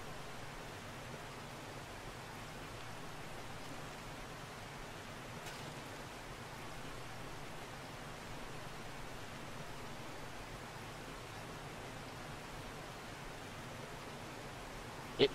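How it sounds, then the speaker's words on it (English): Steady rain falls in the zombie survival game 7 Days To Die, an even, soft hiss of drops that holds unchanged throughout with no other sounds over it. "It has not stopped raining."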